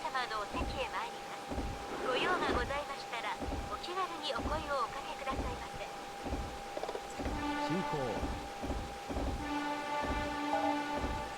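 A JR 185 series "Odoriko" train in the Densha de Go game on the Tokaido Line runs steadily near Kamata Station, with a continuous motor hum and rhythmic rail clatter under someone talking throughout and brief chime tones near the end.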